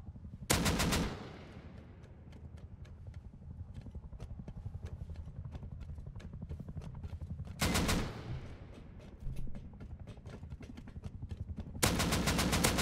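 SMG fire in the PvP survival game Rust comes in sharp, loud bursts of rapid shots separated by gaps, with quieter scattered pops and rattles between volleys and faint voices underneath.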